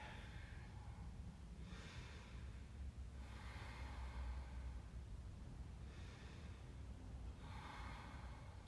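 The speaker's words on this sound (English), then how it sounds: "Then I'm going to breathe." A yoga practitioner breathing during a vinyasa flow, slow deep inhales and exhales in a regular rhythm, faint and close over a low background hum.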